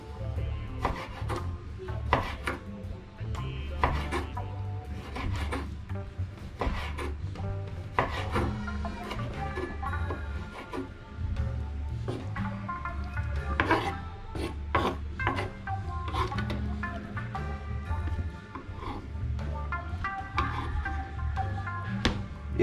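A knife slices cleaned conch into small strips for Jamaican conch soup, producing steady rasping, scraping cuts against a board at close range, repeated throughout with irregular rhythm over a faint background.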